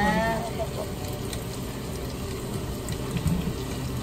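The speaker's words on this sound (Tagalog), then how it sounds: "Tapos lalagyan natin ng tubig." Water is poured into a cooking pot for sopas, a brief gushing splash up close, with faint voices in the background.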